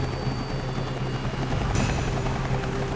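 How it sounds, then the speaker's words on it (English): A helicopter's steady rotor chop and engine drone fill the air, constant and fairly loud throughout. "I could hear it real faintly, the helicopter sound."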